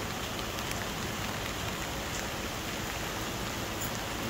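Heavy rain pours steadily onto fig trees outdoors in July, making a dense, even, close hiss of drops that never lets up, with no voices.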